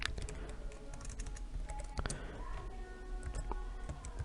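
Rapid clicking keystrokes on a computer keyboard while C++ code is typed, a dense, uneven clatter heard up close and continuing throughout with no talking.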